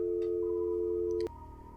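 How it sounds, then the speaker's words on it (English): A telephone busy tone sounds steadily and loudly, then cuts off abruptly with a click as the phone is hung up, leaving a faint hum behind. "she was replied with the sound of the phone being hung up"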